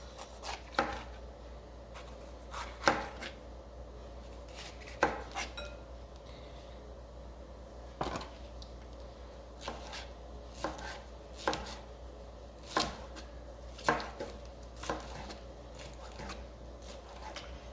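A knife slices mushrooms into long strips on a cutting board, giving crisp, evenly spaced taps roughly every second or two against a quiet room hum, close and clear, with no voice.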